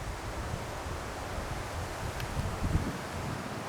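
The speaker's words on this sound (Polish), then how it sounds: "Posłuchajcie tego pięknego wiatru. Jak śpiewa." Steady wind rushing through pine forest in Bory Tucholskie during mushroom picking, a continuous broad whoosh with faint rustling and no voices.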